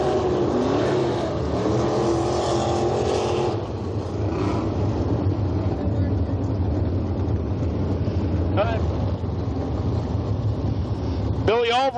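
Race cars on a dirt track at Path Valley roar as green-flag racing begins, a loud continuous engine drone with revving, with a cheering crowd or announcer faintly under it.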